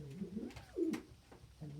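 A pigeon or dove intruding at a breakfast feeder gives several soft, close coos in short rounded phrases, with brief pauses between them and no talking.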